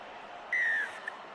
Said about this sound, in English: Referee's put the whistle to his mouth.